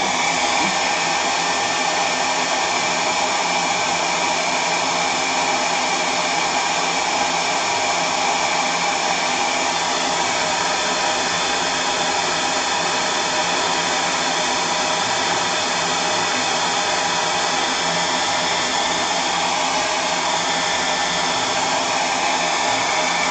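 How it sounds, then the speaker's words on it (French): A hair dryer blows continuously, a loud, steady whooshing hum that holds at the same level from start to finish. "c'est reparti pour le sèche-cheveux."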